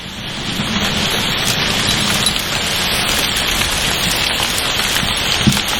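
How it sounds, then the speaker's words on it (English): Hail pelting down on and around a shed makes a dense, loud, continuous patter that swells slightly and holds steady throughout, with no speech. "it has just started hailing down"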